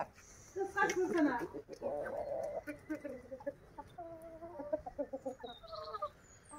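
Chickens cluck in short, repeated calls, close by and loud at the start, then a run of rhythmic clucks toward the end, with a thin chirp near the close.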